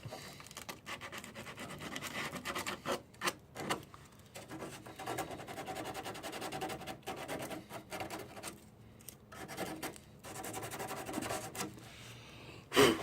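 Hand sanding on a GY6 scooter body panel gives a steady scratchy rasping in irregular strokes with short pauses, close and fairly quiet, with no talking.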